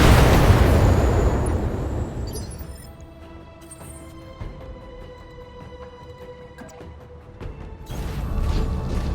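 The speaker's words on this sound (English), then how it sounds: "Come on, hit with the cannon. Taking the shot." A mech fires its cannon in the Battletech video game, a loud booming blast that rolls off into a fading rumble, followed by quieter mechanical clanks and a second swell of noise near the end.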